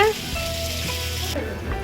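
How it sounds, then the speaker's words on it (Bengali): Fish sizzles as it fries in a pan in a home kitchen, a steady close hiss that runs through the short moment with a voice briefly heard at the start. "এই যে মাছ ভাজা হয়ে গেছে"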